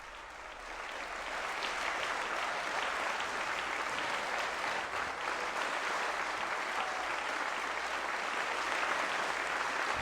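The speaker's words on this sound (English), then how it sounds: "that line about, check your Christianity, getting applause from Democrats in the chamber" Sustained applause from Democratic lawmakers fills a state legislative chamber during a governor's address, a steady broad wash of clapping from many hands that rises after a second and holds without a break.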